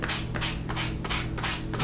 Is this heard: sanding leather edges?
yes